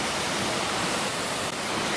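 Ban Gioc waterfall roars as a dense, steady broadband rush, loud and continuous throughout with no voices.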